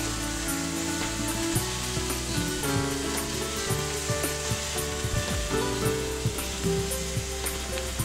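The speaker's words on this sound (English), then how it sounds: "I've already got my bread grilling. Now we're going to put a couple slices of bacon on top of this." Bread and bacon slices sizzle steadily on a hot grill for a grilled cheese sandwich, a continuous close frying hiss with faint crackles and no voices.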